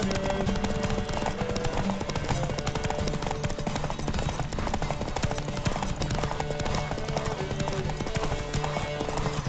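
Rapid hoofbeats of a galloping horse in the video game The Witcher 3: Wild Hunt pound steadily throughout, loud and continuous, layered over a dense musical and game-like background.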